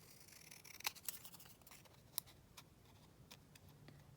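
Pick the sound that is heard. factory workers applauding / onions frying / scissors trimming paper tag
scissors trimming paper tag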